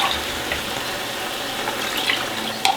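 Tap water running in a kitchen while rinsing during cooking, a soft, steady hiss and patter at moderate distance with a few small clinks near the end.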